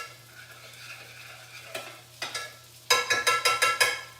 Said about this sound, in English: Let me just stir that so it doesn't stick to the bottom.